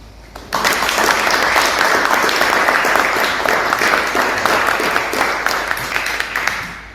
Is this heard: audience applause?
yes